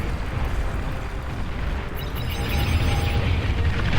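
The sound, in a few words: bombs exploding in the video game Beyond All Reason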